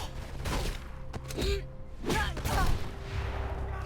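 Gunfire in the Mirror's Edge video game: several sharp shots in bursts spaced across a few seconds, moderately loud, set against a low steady background hum.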